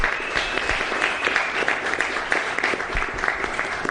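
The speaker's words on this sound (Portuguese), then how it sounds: "um aplauso para todo mundo" Audience applause closing a conversation circle during a non-violence week event, continuous close clapping from a small group with a few sharp individual claps standing out.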